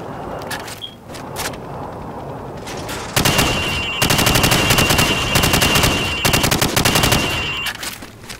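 Gunfire rings out at pop-up targets on a military shooter's training range, with a few sparse single shots first and then long rapid automatic bursts, loud and close, broken by short pauses.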